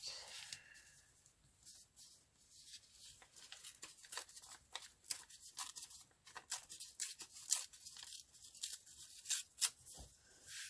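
Scissors snip through paper for a summer envelope folio, a quiet, close series of sharp irregular cuts and rustles, growing more frequent toward the end.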